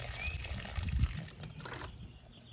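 Water mixed with Epsom salt and fish fertilizer poured over a rose bush, a steady close trickle and splash that tapers off after about two seconds, with no voices.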